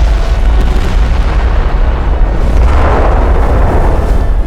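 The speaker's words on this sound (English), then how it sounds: "The Hood's magazine has been hit. The explosion breaks the ship's back." A massive magazine explosion aboard the battlecruiser HMS Hood after a shell hit, a sustained, loud, deep rumbling roar with dense low-end boom that swells and churns steadily throughout with no voices.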